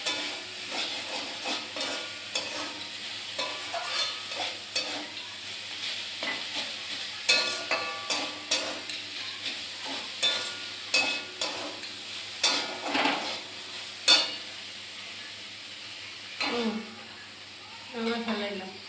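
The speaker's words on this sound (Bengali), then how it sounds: "চিংড়ি মাছ দিয়ে উস্তা ভাজা।" Bitter gourd and shrimp fry in a pan while a spatula stirs them, giving a continuous sizzle broken by repeated sharp scraping strokes against the metal; faint voices sound now and then.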